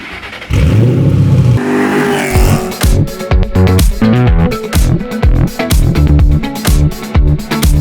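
A Ford Mustang with Stage 1 bolt-on upgrades revs hard on a dyno, the engine note rising and falling loudly through repeated pulls and shifts.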